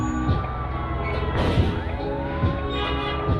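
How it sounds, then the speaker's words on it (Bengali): An ambulance siren wails nearby, its rising and falling tone sweeping repeatedly with rumbling low-end vehicle noise underneath, loud and continuous. "পুরো রিয়েলিস্টিক অ্যাম্বুলেন্সের সাউন্ডটা"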